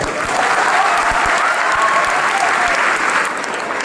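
Loud, sustained applause from a large youth audience at a college expo in Darbhanga, Bihar, dense clapping filling the whole stretch without a break.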